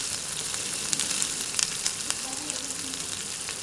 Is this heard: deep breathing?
no